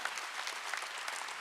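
Steady applause from an audience at a church sermon, a dense even patter of many hands clapping throughout the short moment with no voices over it.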